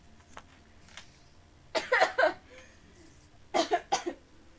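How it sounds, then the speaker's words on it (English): A person coughs after laughing, in two harsh bursts, each a quick cluster of three or four hacks, with a quiet pause between them and a few faint breaths before. "I laughed so fast that I started coughing."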